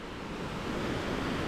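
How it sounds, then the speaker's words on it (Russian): A fast, turbulent mountain river rushes through a gorge in North Ostia near Dargavs, a dense, continuous roar of churning water that stays steady and fairly loud across the whole short stretch. "Вот тут прямо река течет."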